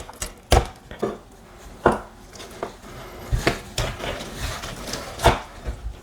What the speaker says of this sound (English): Get yourself a big knife. Go right down the center.